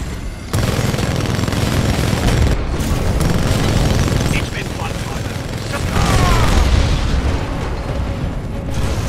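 Explosions and weapon fire from the Titanfall 2 video game, with loud booms and rapid bursts of gunfire that are dense and continuous across the clip.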